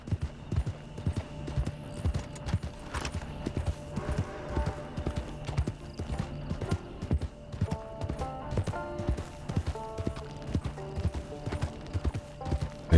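Steady clip-clop of horse hooves in a rhythmic trot in Red Dead Online, joined by occasional metallic tones and a brief whinny.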